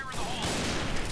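Rapid automatic gunfire in the online shooter Point Blank, a dense continuous burst filling the short moment at fairly loud level.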